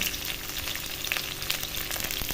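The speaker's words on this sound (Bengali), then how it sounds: "ক্যাপসিকাম এবং পেঁয়াজ খুব ভালো করে ভেজে নেব।" Chopped capsicum and onion fry in oil for a green-chilli chicken curry, producing a fairly quiet, steady sizzle with light stirring taps and no voices.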